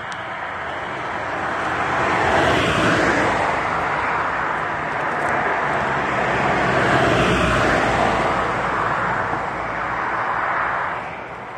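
A car passes along a roadside, its engine and tyre noise swelling and fading steadily over several seconds with no talk.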